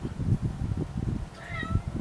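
A cat meows a few times, close by, one drawn-out cry standing out over soft background rustling.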